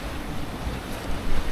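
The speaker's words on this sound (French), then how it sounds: "Oh bah il y a du vent, hein." Wind buffets a sailboat at sea, blowing broad and rough across the mic with wave wash beneath, and gusting stronger toward the end.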